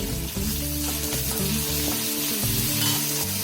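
Green chilli, curry leaves and coriander leaves frying in hot oil give a steady, continuous sizzle beneath prominent background music.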